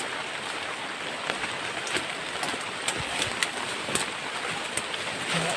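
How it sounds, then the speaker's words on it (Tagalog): Steady, dense rainfall pours down, drops pattering loudly on surfaces with occasional sharper splashes, no voices. "Basang-basa to guys pagbaba ngayon."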